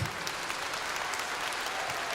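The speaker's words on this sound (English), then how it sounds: "Can we give them a round of applause?" A school audience applauds a fourth grade choir at a spring concert. Dense, even clapping continues throughout at moderate volume, with no speech on top.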